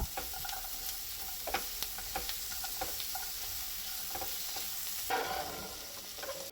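Chopped tomato sautés in a pan, a soft continuous sizzle broken by repeated scraping stirs of a spatula, quiet and close.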